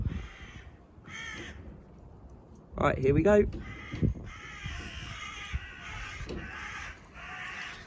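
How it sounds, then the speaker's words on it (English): Noisy crows cawing loudly outdoors in several harsh calls, with someone speaking briefly nearby and distant birdsong in the background. "we've got a very noisy crow"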